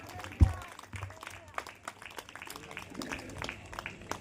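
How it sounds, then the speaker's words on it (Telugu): A church congregation claps in praise, scattered and faint, with a sharp thump near the start and murmured voices throughout. "సంతోషం ఉన్న వాళ్ళందరూ చప్పట్లు కొట్టి ప్రభుని స్తుతిద్దాం"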